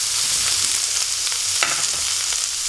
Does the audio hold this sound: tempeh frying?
yes